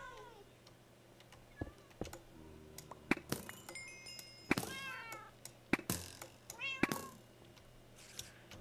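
Several cats meow in a Minecraft modded survival world, short bright cries scattered over about eight seconds with some ticking and clunking game noises, loud and close, with no talk over them.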